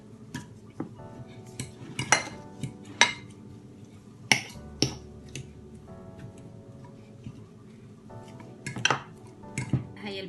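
Warm boiled potatoes being mashed in a bowl, with scattered clinks and soft knocks of a utensil against the bowl in an irregular rhythm, some louder taps standing out over a quiet background.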